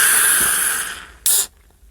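A fizzy drink is opened up close with a sustained hiss of escaping gas that tapers off, then a second short, sharp burst of fizz before it goes quiet.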